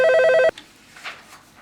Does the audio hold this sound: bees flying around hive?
no